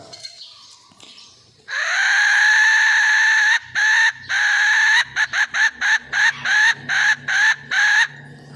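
A brass hen-call whistle, blown through a single hole to mimic a hen, gives one long sustained tone, then a rapid series of short repeated hoots, loud and close.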